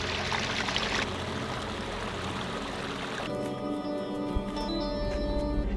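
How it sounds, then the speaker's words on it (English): Running water from a spring along a desert hiking trail, a steady close gurgle and trickle that fills the whole stretch with no talking over it. "Running water way out here."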